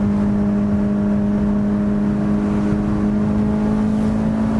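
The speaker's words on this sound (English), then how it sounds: "a mid-mounted, high-revving, naturally aspirated engine which is mated to what many consider to be one of the best manual gearboxes" A Honda S2000's high-revving, naturally aspirated four-cylinder engine holds a loud, steady drone with strong harmonics, close and continuous, with no talk.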